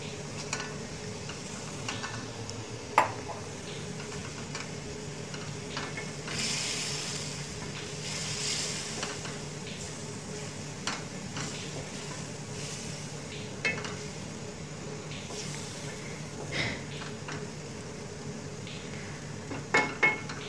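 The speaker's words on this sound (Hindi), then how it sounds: "अब हम चिकन डाल देंगे।" Chicken goes into a pan of okra curry and is stirred, with a low, constant sizzle and scattered clinks and scrapes of a spoon against the pan.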